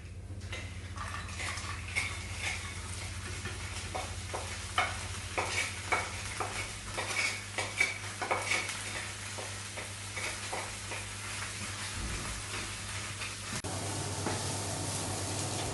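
Asparagus sizzles in a pan after browned prawns were set aside, a steady close frying hiss broken by scrapes and clinks of a utensil stirring against the pan.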